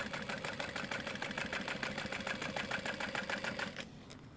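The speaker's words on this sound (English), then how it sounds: "you're going to be top stitching on your accent fabric" Sewing machine top stitching on accent fabric for a tote bag at a long stitch length, a steady rapid needle chatter running continuously up close before cutting off near the end.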